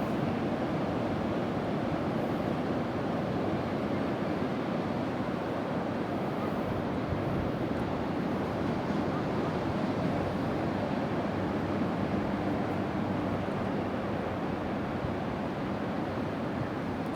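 Steady surf and wind noise at the seashore, heard from a FreeFlight Pro drone flying out over the breaking waves, a continuous broadband wash without pauses and with no talk.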